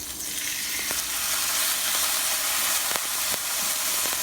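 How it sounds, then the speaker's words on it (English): Steak sears in a hot pan with a loud, steady, crackling sizzle that hisses continuously, broken by a few sharper pops and spits, with no voices over it. "If you put your meat in the pan and it doesn't sound like this,"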